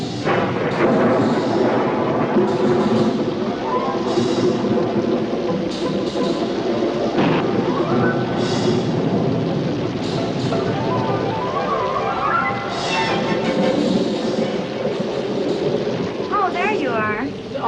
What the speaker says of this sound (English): Quite a storm, isn't it?